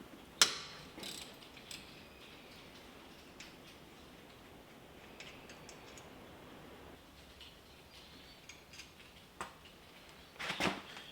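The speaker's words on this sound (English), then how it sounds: "Break both bolts loose with a 13 mil ratchet and remove them." On a Mazda CX-30 front brake job, a 13 mm ratchet clicks while loosening the brake caliper bolts, giving sparse, quiet ratcheting ticks and a few sharper metallic clanks, with brief bursts near the start and end.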